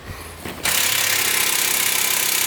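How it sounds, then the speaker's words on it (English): A power tool, likely an impact gun, undoes a suspension bolt on an E36 during a coilover swap, a loud continuous rattling whir that kicks in abruptly after a short clunk and runs without pause. "I'm gonna undo that last bolt and then put the new coils in"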